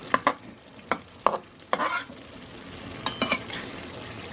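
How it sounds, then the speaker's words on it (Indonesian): Stir-fried fern greens and petai beans in spicy oyster sauce get stirred in a pan, a few sharp utensil scrapes and clinks over a faint sizzle, close and quiet with no talking. "Kita aduk agar rasanya tercampur"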